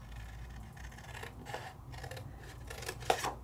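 Scissors trimming wet watercolor-painted paper, a few quiet snips and rubbing sounds, one sharper cut near the end, over low room hum.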